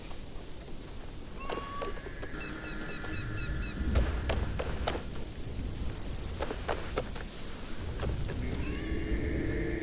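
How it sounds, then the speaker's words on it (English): A cat meows a few times in Assassin's Creed Shadows over steady ambient noise, with scattered sharp clicks and tones from game sound effects. "I'm hearing a cat though."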